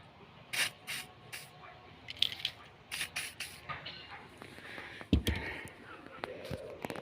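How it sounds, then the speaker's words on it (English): Contact spray hisses onto a stop-light bulb connection on a Ford Mondeo MK4, several short sharp bursts near the start and middle, close up, among rustling and handling noises. "Just put spray here"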